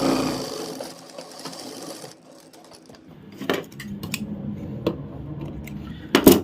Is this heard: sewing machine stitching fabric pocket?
yes